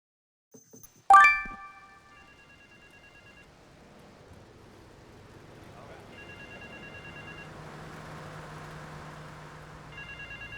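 An electronic phone ring in Grand Theft Auto III – The Definitive Edition chimes in short repeated bursts after a sharp clatter, with a low ambient hum filling the gaps.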